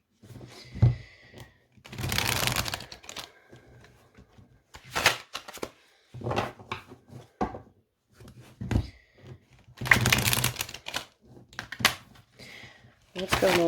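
Stiff tarot cards are shuffled at a desk in bursts of riffling and slapping, close and crisp, separated by pauses with brief talk between them.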